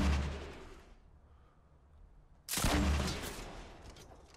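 Gunfire in Fortnite Battle Royale, heard as a loud burst of shots that fades into a quiet gap before a second sharp volley cracks out close by and trails off.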